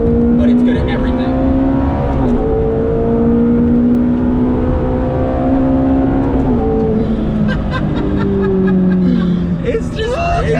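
A Ferrari F430 engine revs hard and climbs through the gears, with quick shifts breaking the rising pitch. It is loud and close, heard from inside the car, and voices talk over the engine.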